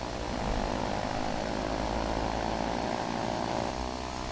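Twin propeller engines of a model 166 aircraft drone steadily and loudly with the fuel mixture lean and the props advanced, a dense, unbroken roar that holds level throughout.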